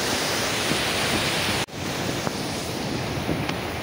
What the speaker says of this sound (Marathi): बघा इकडे लाटा कशा प्रकारे येत आहेत त्या